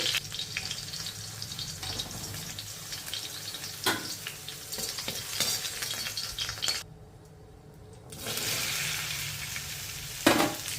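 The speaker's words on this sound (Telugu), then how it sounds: "ఇప్పుడు ఇవి తీసేసుకొని పక్కన పెట్టేసుకొని ఆ మిగిలిన బెండకాయ ముక్కలను కూడా ఫ్రై చేసేసుకోవాలి." Okra pieces fry in hot oil with a steady, bright sizzle and occasional stirring clatter, briefly dropping to near quiet before the crackling fry resumes.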